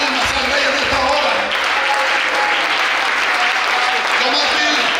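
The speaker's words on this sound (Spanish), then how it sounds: "alguien dele palmas al Rey en esta hora" Congregation in an evangelical church service clapping hands steadily and loudly throughout, a dense sustained wash of applause with some voices mixed in.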